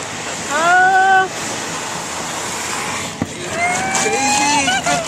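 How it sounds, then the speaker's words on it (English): Rainwater rushing through a flooded Las Vegas street, a loud continuous broadband wash close by, with voices that rise and fall as people exclaim over it. "Oh my gosh, look at this, all this water."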